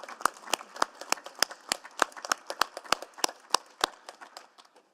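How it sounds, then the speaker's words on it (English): A round of applause at a city council meeting: scattered, sharp claps in an irregular rhythm from a modest group, moderately close, with no talking over them. "One more round of applause for everyone"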